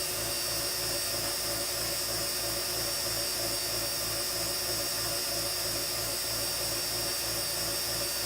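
A small rotary tool polishes an acrylic keyring with a steady, high-pitched whine, joined by a fast pulsing rumble underneath, running continuously and loud up close with no speech.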